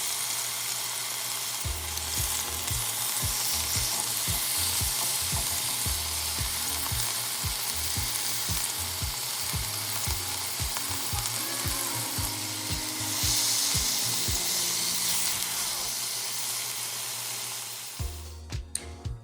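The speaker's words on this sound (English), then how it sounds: "this is me searing the chicken thighs in olive oil" Chicken thighs sear in olive oil in a pan, giving a loud, steady sizzle throughout with repeated low knocks and scrapes from stirring. A brief pause comes near the end.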